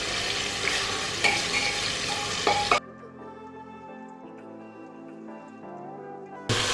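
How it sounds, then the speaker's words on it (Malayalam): Chicken pieces sizzle loudly in hot oil inside a pressure cooker, with steady frying crackle and stirring for a few seconds. The sizzle then drops away to quiet background tones before returning briefly at the end. "ചിക്കൻ വറുത്തെടുക്കാം."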